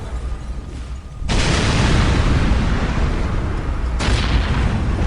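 A powerful artillery shot explodes in the Dawn of War: Soulstorm strategy game, a sudden loud boom at about a second in that rolls into a long, dense rumble, with a second blast hitting near the end.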